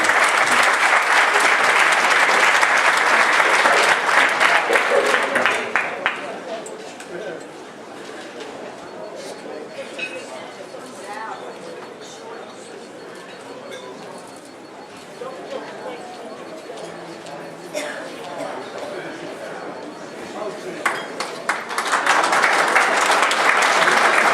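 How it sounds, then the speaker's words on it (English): Audience applause at a community council annual breakfast, loud sustained clapping at the start that fades under a busy room of chatter and returns strongly near the end. "let's give them another round of applause, everybody."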